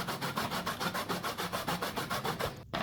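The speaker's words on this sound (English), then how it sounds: "The grating process also takes some time" A peeled root rubbed back and forth over a grater into fine particles, giving steady rhythmic scraping strokes about five times a second, close and continuous, with a brief pause near the end.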